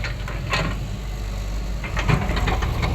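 A farm tractor engine idles nearby, a steady low chugging rumble with a few sharper clanks and knocks over it.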